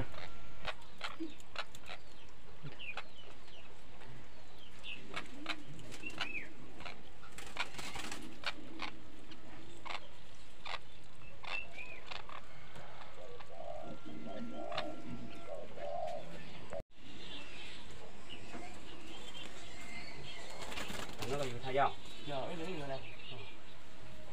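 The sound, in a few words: caged birds calling at a Hmong house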